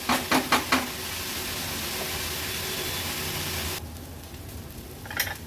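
Leafy vegetable sizzling uncovered in a pan over a low-medium flame, a steady close hiss that drops abruptly to a quieter simmer, with a few clinks at the start and end.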